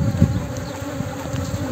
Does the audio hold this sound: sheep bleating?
no